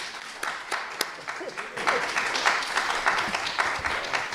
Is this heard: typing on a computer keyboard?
no